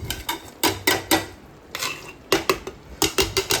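Metal utensil clatters and scrapes against a pan in uneven bursts, close and fairly loud, as chopped tomatoes and onions are tipped in and stirred.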